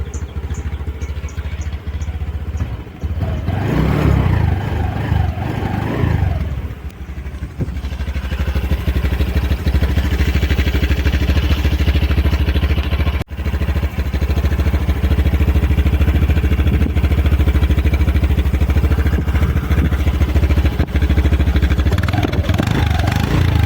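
A Honda Dio 125 scooter with a 125 cc engine and dual-tip exhaust runs steadily close by, a continuous low engine drone with a couple of brief revs early on and a sharp click midway.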